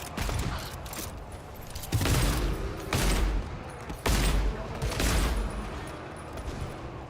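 Gunfire in the co-op horror shooter GTFO during Rundown 8: sharp, loud bursts of shots recurring roughly every second, separated by brief lulls.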